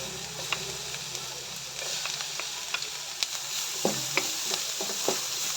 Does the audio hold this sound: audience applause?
no